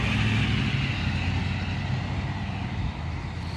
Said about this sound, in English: And of course we got the loud trucks going by.